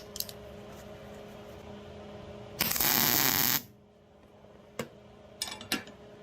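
A MIG welder lays a single tack weld joining thick metal to thin sheet: one loud crackling hiss lasting about a second, set against a quiet room hum, then a few faint clicks and taps.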